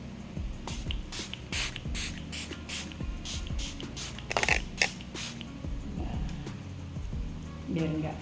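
A face mist bottle gives a run of quick, close spray hisses over a face after make-up, with women chatting throughout.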